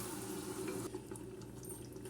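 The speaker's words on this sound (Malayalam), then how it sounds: "അതിലേക്ക് കുറച്ച് വെള്ളം കുറച്ച് വെള്ളം എടുത്തിട്ടുള്ളൂ അത് ഒഴിച്ചു കൊടുക്കേണ്ടത്" Water pours steadily from a small mixer jar into a pressure cooker while chicken kabsa is being prepared, a continuous close splashing trickle with a faint sizzle underneath and no talk.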